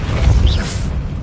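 A Depulso spell fires in a Hogwarts video game: a short whooshing, mechanical burst with a low thump and a brief rising-falling swish, lasting about a second.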